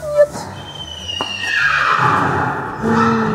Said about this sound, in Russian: Так вот лошадки. Лошадки.